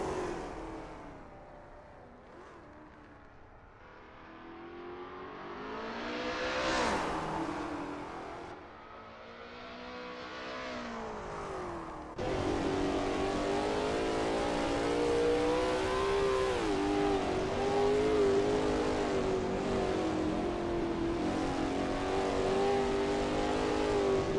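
A Lola T70 MkII Spyder race car on a qualifying lap at Bathurst in a video game, its engine rising and falling through gear changes, then holding a steady, loud high-revving drone for the second half, no talking.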